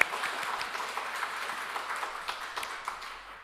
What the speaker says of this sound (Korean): 축하의 박수 한번 부탁드리겠습니다.